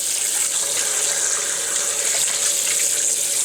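Tap water gushing steadily into a sink while a brined turkey is rinsed, a continuous bright splashing hiss, close and even throughout, with no voices.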